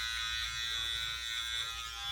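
Electric hair trimmer buzzing steadily and close during a shave, a constant motor drone with a bright whine that holds unbroken throughout, no talking.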